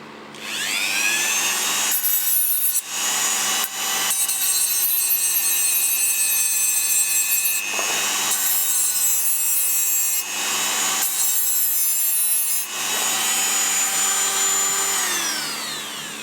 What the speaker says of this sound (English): I'm just going to deburr the ends.